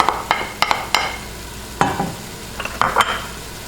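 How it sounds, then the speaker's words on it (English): Chopped onions are added to lean ground beef browning in a pan for spaghetti sauce, giving a soft steady sizzle broken by a few sharp scraping stirs of a utensil, close up and without speech. "So to this, I'm going to add my onions"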